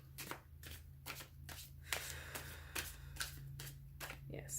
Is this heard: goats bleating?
no